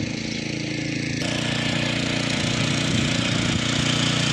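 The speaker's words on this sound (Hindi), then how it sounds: "बरसीन कटने वाली मशीन है।" Motorcycle-powered berseem fodder cutting machine running steadily, a loud continuous engine drone with a rhythmic mechanical chatter from the cutter throughout.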